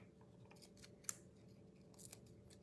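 Scissors snip off the edges of a ribbon bow for a dollar-store Mother's Day craft, with one sharp, distinct cut standing out among faint rustling in a quiet room.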